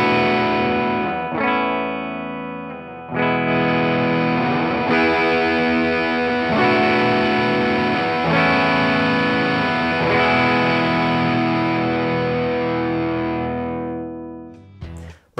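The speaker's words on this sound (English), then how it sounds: "This is going to allow you to alter the amount of distortion in the overdrive circuit." Electric guitar through a Tonebone North Star overdrive pedal plays loud, sustained distorted chords, several strummed changes ringing out over about fifteen seconds before fading at the end.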